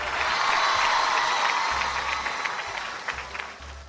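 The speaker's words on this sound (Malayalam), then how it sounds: "ഒന്ന് ഉറക്കെ കൈയടിച്ചേ." A group of schoolchildren claps loudly in a room, a dense burst of many hands that starts strong and gradually thins and fades toward the end.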